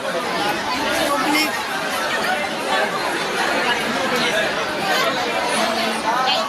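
A thick, steady hubbub of a large crowd crammed around a general ticket line, many voices overlapping into loud unbroken babble from start to finish.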